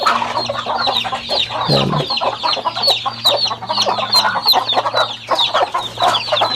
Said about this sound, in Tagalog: Halos lahat ng pugad dito may naglilimlim.